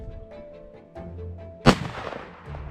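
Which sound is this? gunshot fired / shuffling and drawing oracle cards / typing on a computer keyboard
gunshot fired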